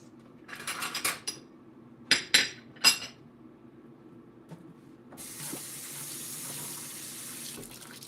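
A kitchen tap runs into a pot for a Nigerian chicken stew, preceded by several sharp clinks of pots and utensils; the water flow comes in later as a steady, bright hiss.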